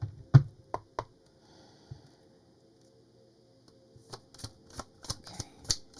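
Tarot cards being shuffled by hand: sharp clicking taps at the start, a quiet pause, then a denser run of riffling snaps and flicks, close and alone.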